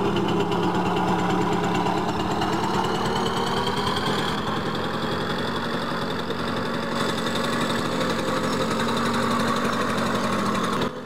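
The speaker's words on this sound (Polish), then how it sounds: "Jest to całkiem głośny motor, jak mogliście usłyszeć." A loud Soviet motorcycle engine in Farming Simulator 17 runs steadily close by, a rough throbbing drone that rises slightly in pitch and holds for several seconds.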